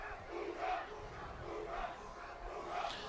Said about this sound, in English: Very loud and boisterous crowd